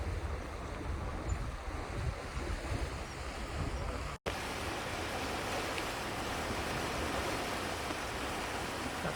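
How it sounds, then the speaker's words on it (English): River water flows along the Minnesota River bottoms near a dam structure, a continuous broad rushing wash heard outdoors with wind buffeting the microphone. "Got some water flowing here anyway."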